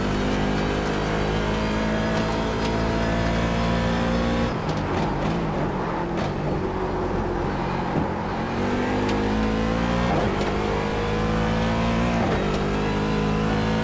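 Corvette C7 Daytona Prototype race car in iRacing at Okayama, engine droning loud and steady throughout, with a burst of shifting and lifting around the middle, then the pitch climbing again through gears.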